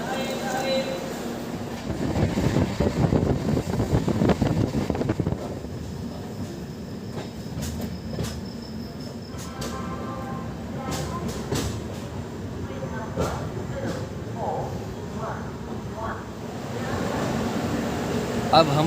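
Indian Railways passenger train running on the Kanpur to Haridwar route near Aligarh Junction: continuous rumble and rattle of the carriage, with clacks and faint squeals throughout.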